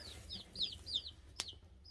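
A few soft, close clucks from Rhode Island Red chickens in quick succession, followed by a sharp brief click, against a low background rumble.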